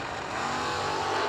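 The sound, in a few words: drag racing cars, 82 Monte Carlo and 75 Mercury Comet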